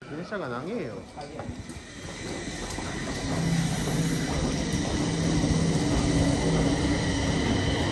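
A long commuter train runs at a Japanese railway station on a Sendai-bound line, its rumble swelling steadily from the midpoint and holding close and loud under people chatting.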